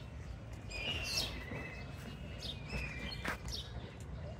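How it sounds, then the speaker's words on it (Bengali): Small birds chirp and tweet in a landscaped lakeside park at Rabindra Sarobar, short calls scattered over a low outdoor hum, fairly faint and somewhat distant. "এই দেখুন কত পাখি।"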